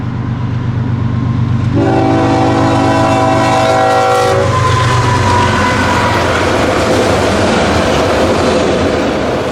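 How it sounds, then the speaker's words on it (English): Freight train Q441, the daily Waycross-to-Tampa manifest, rumbles past near Coleman, Florida, loud and close, sounding a long horn blast over the continuous roar and clatter of passing cars. "I heard a train call the signal at Coleman, Florida."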